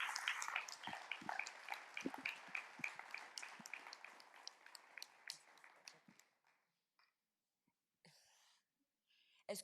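Audience applauding start-up participants and two winners at a closing prize ceremony, a crowd clapping moderately loud for about six seconds, then fading out into near silence with a few scattered claps and noises.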